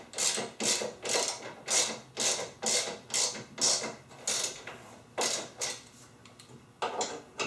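A hand ratchet tightening nerf bar bolts on a UTV, clicking in about a dozen short rhythmic bursts, close and fairly quiet with brief pauses between strokes.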